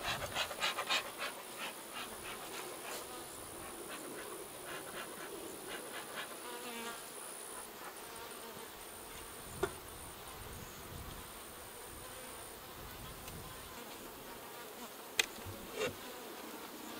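Honey bees from a beekeeper's hives swarm around the boxes, making a steady, dense buzzing hum that stays fairly close. A few sharp ticks and taps break through the drone now and then.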